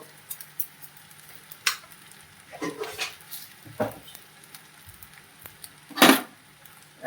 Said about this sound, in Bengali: ভালো করে নাড়িয়ে নিই, মিক্স করে নিই